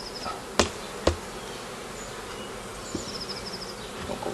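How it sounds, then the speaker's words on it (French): Honeybees buzz around an overwintered colony at a hive in late March, a steady close insect drone with a few sharp knocks early on. "ça c'est une très belle colonie qui va vraisemblablement donner du miel cette année"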